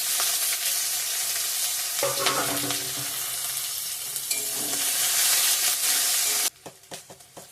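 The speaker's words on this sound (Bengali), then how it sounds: "রসুন পেঁয়াজ একসাথে দিয়ে দিলাম" Garlic and onion frying together in hot oil with cumin, a loud continuous sizzle with spoon scrapes and stirring knocks, ending in a few sharp taps after the sizzle cuts out.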